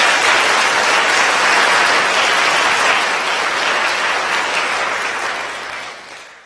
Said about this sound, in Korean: 여러분들 따뜻한 환영의 박수 부탁드립니다